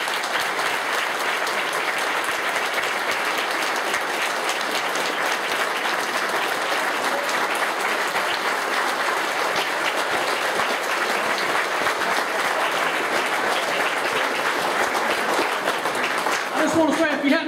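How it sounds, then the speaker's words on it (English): An audience of around 200 people gives three men a sustained, loud round of applause, continuous dense clapping that lasts the whole stretch, with a voice briefly audible near the end. "let's give these three guys a round of applause"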